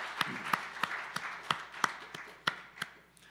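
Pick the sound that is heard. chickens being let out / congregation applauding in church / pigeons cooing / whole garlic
congregation applauding in church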